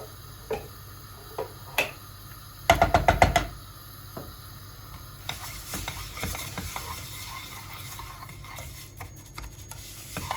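Tomato paste sautéing in a pot for tarhana soup, a faint low sizzle under scattered knocks and a quick burst of spoon taps against the rim, then soft stirring scrapes.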